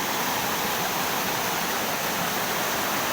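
A swift, swollen river rushes with a strong current, a steady, loud, unbroken wash of flowing water filling the whole stretch with no voices.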